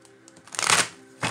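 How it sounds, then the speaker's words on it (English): Tarot cards are shuffled close by: a quick riffling rush that swells and fades, followed by a short snap of cards, with no talk. "I'm going to shuffle these again"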